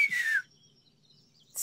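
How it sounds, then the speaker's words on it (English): A single clear descending whistle in the adventure game The Longest Journey, about 0.4 seconds long and sliding gently downward in pitch, followed by near silence with faint low background hum. "Can you whistle? Like this?"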